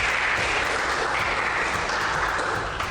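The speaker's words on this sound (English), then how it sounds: "can we have a round of applause, please?" A seated audience at an International Women's Day panel event breaks into applause, a dense, steady wash of many hands clapping together that holds at an even level throughout without anyone speaking over it.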